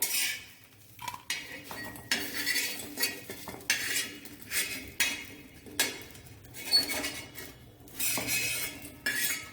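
Fried banana slices being lifted out of a pan for a Konkani kela phodi, with repeated metal utensil scrapes and clinks against the pan in short bursts, fairly close and with no talking.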